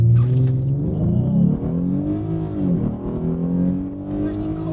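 A gas Lexus IS350 pulls hard from a standstill toward 60 mph, its engine note rising and shifting through gears in a loud, steady in-cabin drone, with a voice speaking briefly over it.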